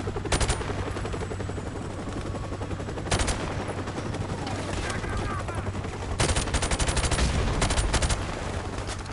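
Bursts of gunfire in the video game Propaganda, with loud rapid volleys around the start, middle and later stretches over steady background game noise.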